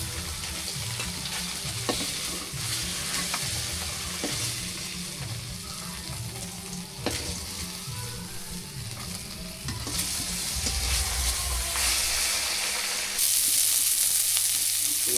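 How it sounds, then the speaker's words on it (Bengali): Fish fries in hot oil in a village kitchen, a steady close sizzle running for several seconds with occasional stirring scrapes, then the hiss shifts and grows louder near the end as pieces are turned or lifted out. "মাছগুলো ভাজা হয়ে গেছে, নামাই আনি।"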